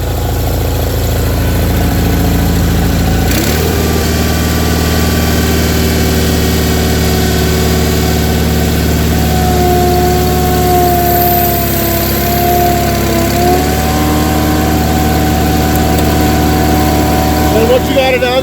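A steady engine drone from an Ingersoll 4120 garden tractor powering a hydraulic chipper/shredder, running continuously and loud close by, with a slight shift in pitch partway through as the load or throttle changes.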